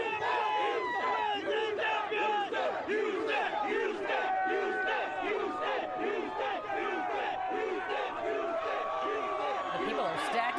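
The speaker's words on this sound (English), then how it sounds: "these crowds are thrilled, as are all Houston Astros fans" A dense crowd of Houston Astros fans celebrates outside Minute Maid Park, with continuous loud cheering, shouting and whoops from many voices packed close together, steady and sustained throughout.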